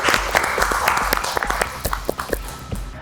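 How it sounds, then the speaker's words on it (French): Audience at a pizza dessert cooking competition semifinal applauds the contestants: moderate, uneven clapping from a modest crowd, fairly close, with a low rumble beneath and no clear talk. "encore une fois, un gros applaudissement à vous"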